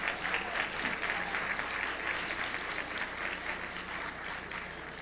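A lecture audience applauds the John Davis Quartet, a jazz group with a saxophonist, in a steady, dense wash of clapping that holds for several seconds, moderately distant.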